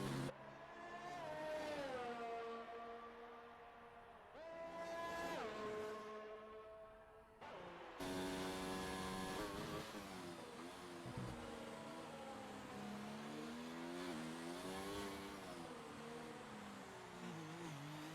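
A Formula 1 car in the F1 2019 racing game on the Abu Dhabi circuit, its high-pitched engine climbing through repeated gear changes, dropping and revving again, continuous and close with no talk.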